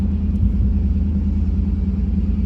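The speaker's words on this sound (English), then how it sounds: "I'm back on the gas pedal just a little bit." A 2002 Pontiac Trans Am convertible's engine rumbles low and steady under light throttle in first gear. It holds a close, even drone with no sharp revving.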